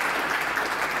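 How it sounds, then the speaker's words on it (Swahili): Congregation clapping to welcome guests in a church, a dense, steady wash of hands at moderate distance, continuous and even for the full second with no voices standing out. "Haya makofi hayatosha"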